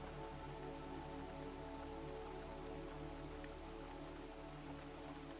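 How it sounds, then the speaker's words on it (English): Steady rain falls at night outside a pottery studio. It is a soft, even patter of drops on surfaces and keeps going unbroken throughout, with no voices. "Ari paused to listen once more to the rain."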